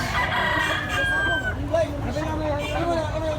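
A rooster crows through a noisy outdoor crowd in Cebu, its drawn-out call rising above the chatter of many voices.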